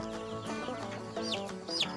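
A chicken clucks softly in short, close bursts, with a couple of higher squawky notes near the end.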